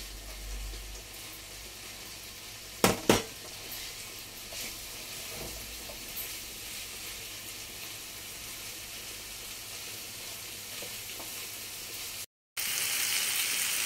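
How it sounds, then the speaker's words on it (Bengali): Chicken kabab pieces fry in a pan with a steady, moderate sizzle throughout, marked by a couple of sharp clatters early on and a brief break near the end. "আমার মাংসটা অলমোস্ট ফ্রাই করা হয়ে গেছে।"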